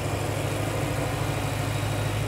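A BMW M3 with a 4-litre V8 idles with the hood up, giving a steady, even rumble close by with no talking.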